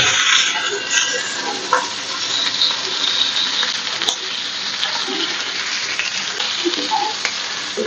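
Hunter beef sizzles on a hot, buttered, preheated grill pan, giving a steady, loud frying hiss with crackles and spits that carries through the whole stretch with no talking.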